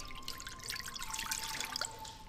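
Water splashes and trickles into a big, shallow flower-arrangement dish, with bright, bubbly pouring sounds for a couple of seconds at close range and no voices.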